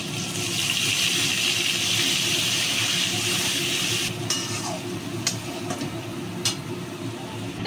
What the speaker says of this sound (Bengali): এই পটল ভাজার তেলেই আমি একটু কালো তিল ফোড়ন দিয়ে নিচ্ছি, আর একটা কাঁচা লঙ্কা ফাটিয়ে দিয়ে দিলাম। আর এবার আমি পোস্তটা দিয়ে নিচ্ছি।